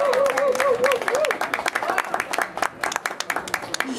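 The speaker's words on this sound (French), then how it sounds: "applaudissons Maritza, s'il vous plaît" A talk-show audience in Martinique applauds, scattered claps growing into a patchy round after a voice speaks over the opening moments.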